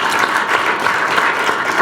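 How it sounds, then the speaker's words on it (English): A brief burst of full, even applause from a public policy forum audience clapping for a panel of speakers, dense and sustained throughout. "So everybody give these folks a round of applause for being here"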